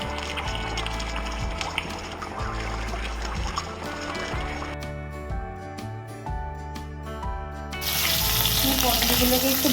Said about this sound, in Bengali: তেলটা একটু গরম হলো তারপরে আমি পনিরের টুকরোগুলোকে দিয়ে ভেজে